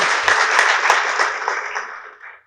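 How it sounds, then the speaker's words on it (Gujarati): A live audience claps loudly at an education talk, with dense, steady applause that thins and tapers off near the end. "એને જોરદાર તાળીથી આપણે વધારીએ"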